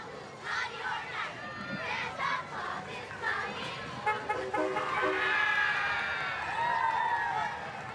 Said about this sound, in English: cheer team performs cheers, chants, and dances at each school assembly to bring spirit and energy to the crowd